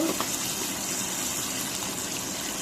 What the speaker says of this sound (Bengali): পানি দিয়ে দিলাম